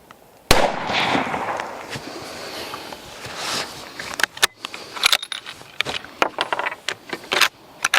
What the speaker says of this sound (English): We'll just shoot for the center for now.